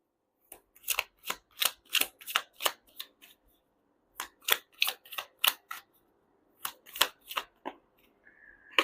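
Tarot cards are riffled and shuffled in quick bursts of crisp papery flicks, two rapid sequences separated by a short pause, close and clear with no voices.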